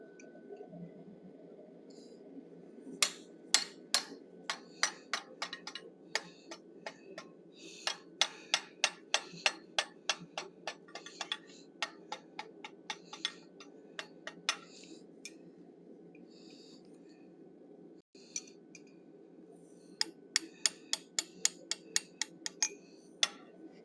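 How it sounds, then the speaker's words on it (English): A chisel is hammered on forged metal to split the ears from the horn of an animal head, making bursts of sharp, ringing metallic strikes in quick rhythmic runs with pauses between them, close and alone over a low background hum. "Then I'm going to use that same chisel to separate the ears from the horn."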